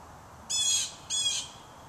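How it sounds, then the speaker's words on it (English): A bird calling outdoors in two clear, bright, harsh bursts about half a second apart, fairly close and loud over quiet background. "that bird is accompanying me"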